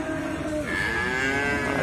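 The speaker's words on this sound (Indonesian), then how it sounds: "Di sebelah sini ada sapi simental" Simmental cattle mooing at a livestock market, a long drawn-out low bellow with shifting pitch lasting nearly two seconds, loud and close against a busy crowd background.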